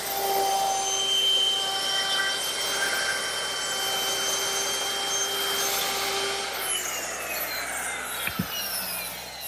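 A router fitted with a 1/4 inch roundover bit shapes the top edges of wooden Adirondack chair seat slats, giving a steady high whine that cuts off near the end, followed by a brief knock.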